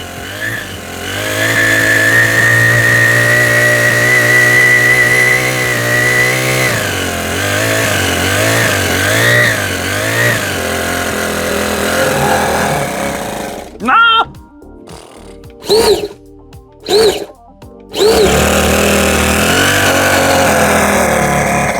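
A small gasoline engine runs loud and close with a buzzy, rising and falling drone, then stutters through sharp bursts of throttle blips near the end; a voice talks over part of it.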